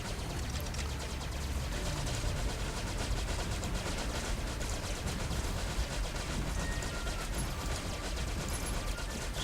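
Rapid-fire turrets shooting in the video game Space Run, a continuous dense rattle of fast mechanical gunfire under a steady noisy bed, unchanging in level throughout.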